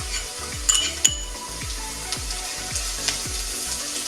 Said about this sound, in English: we can go in with the garlic. In that goes. And in with the cumin seeds.